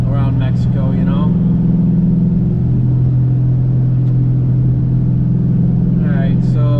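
Idling Dodge Charger 392 fitted with a new air intake, a steady low engine rumble held close throughout, with a person talking briefly at the start and again near the end.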